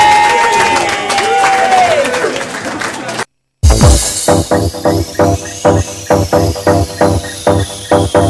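An audience at a girls' night out event breaks into cheering and applause for a new couple, a loud crowd roar that cuts out briefly, then comes back as rhythmic clapping along with continued cheers.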